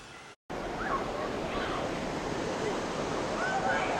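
Rushing water in a cold waterfall pool at a natural sliding rock in North Carolina roars steadily and loudly, with wind buffeting the microphone and faint voices under the din after a brief cut at the start.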